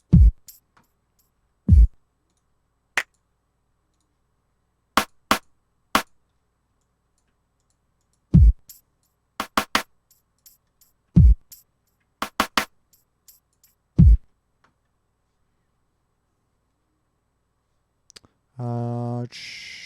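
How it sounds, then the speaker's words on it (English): Mouse clicks while producing a chillstep beat in FL Studio on a computer, sharp isolated clicks in scattered singles and quick doubles with long quiet gaps, ending in a short burst of music. "Double left click, double right click, double click it to change channels."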